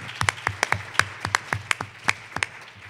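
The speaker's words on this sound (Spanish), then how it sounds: "Darle un aplauso." Scattered applause from a seminar audience at an inauguration, a few distinct claps ringing out in an uneven rhythm over a low hum, close and moderately loud.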